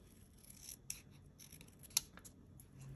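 Scissors snip quietly twice, sharp close crisp cuts over near silence with faint rustling.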